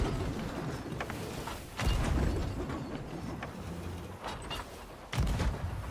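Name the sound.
ship cannon fire in the video game Sea of Thieves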